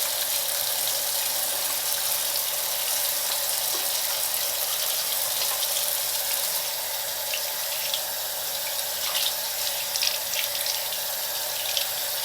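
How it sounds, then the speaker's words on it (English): Tap running steadily into a sink while hands are washed with foaming hand soap, a close, constant hiss of water with slight splashing shifts as hands move under the stream. "let me go ahead and wash my hands and we'll just see how it works"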